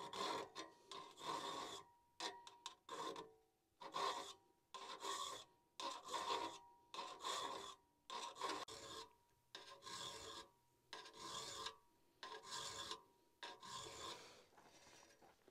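Hand file rasping across the teeth of an old cross cut saw, close and steady, in a rhythmic series of short strokes with brief pauses between them and no talking.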